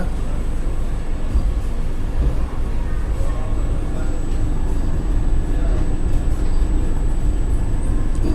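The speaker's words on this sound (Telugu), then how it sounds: "మన ట్రైన్ వచ్చేసి సికింద్రాబాద్ జంక్షన్ నుంచి అయితే బయలుదేరిపోయింది" Inside the Vande Bharat Express as it pulls out of Secunderabad Junction, a steady low rumble of the moving train runs throughout, with faint background voices underneath.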